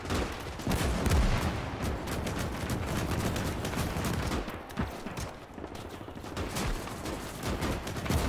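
Heavy PTRS anti-tank rifle shots ring out amid a dense, continuous barrage of gunfire and explosions on a World War II battlefield in Gates of Hell: Ostfront, loud and sustained throughout.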